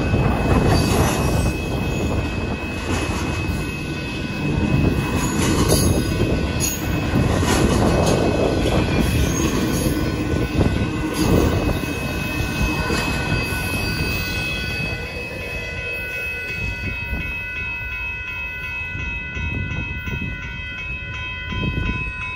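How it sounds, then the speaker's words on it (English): Long northbound Union Pacific intermodal freight train passing close by at Dittmar Road in Austin, Texas: a loud, continuous rumble and rattle of rolling cars with steady metallic wheel noise throughout. "Wow, that's a really long northbound Union Pacific intermodal there."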